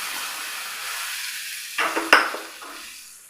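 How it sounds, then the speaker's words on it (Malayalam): Mustard seeds go into hot coconut oil to temper a chutney: a soft, even hiss, then a metallic clink and a short burst of crackling sizzle that fades back down. "ഇനി നമുക്കിതൊന്ന് കടുകിട്ട് കൊടുക്കാം"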